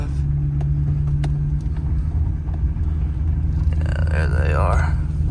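A four-wheel-drive truck climbs up onto a trailer in winter, its steady low engine rumble continuing throughout, with a rising higher whine near the end and a voice heard over it.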